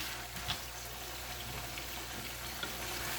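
Chicken frying in a pan with ginger and garlic gives a faint, steady sizzle with a few soft clicks, low and continuous throughout, with no voices.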